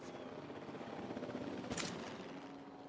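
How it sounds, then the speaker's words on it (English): A helicopter in the dinosaur park game Jurassic World Evolution 2 whirs steadily at low volume, its rotor drone continuous, with one brief sharp crack partway through. "If my helicopter can hit them."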